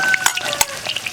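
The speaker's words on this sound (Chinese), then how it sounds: "锅里来点猪油、菜籽油，油后下姜蒜" Ginger and garlic dropped into hot lard and rapeseed oil in a wok, a loud close sizzle crackling continuously with a few sharp stirring scrapes.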